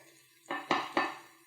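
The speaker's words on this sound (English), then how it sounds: "So here now I'm going to add the onions." Chopped onions tip into a pan of frying Singapore noodles with three quick metallic clanks and clatters, each fading briefly, close by and with no talking.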